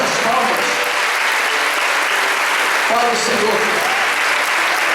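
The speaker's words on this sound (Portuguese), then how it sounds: "dê uma linda salva de palmas para o Senhor Jesus" A church congregation applauds for Jesus during a communion service, steady dense clapping filling the whole stretch while a preacher speaks over it.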